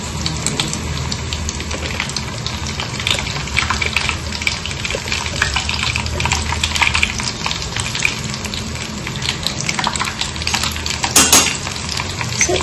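Snacks frying in hot oil, a dense loud continuous sizzle and crackle throughout, close up.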